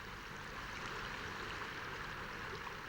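Meltwater stream trickling and rushing during a spring thaw in a highland glen, a steady continuous broadband flow of water with no pauses, moderately close and even in level throughout.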